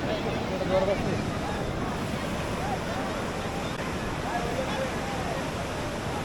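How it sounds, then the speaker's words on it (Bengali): Sea waves washing ashore at Kuakata beach in Bangladesh, a continuous rushing surf mixed with wind buffeting the microphone, steady and fairly loud. "সমুদ্র একটু আওয়াজ শুনতে পাচ্ছেন আপনারা আমার এই ক্যামেরায়"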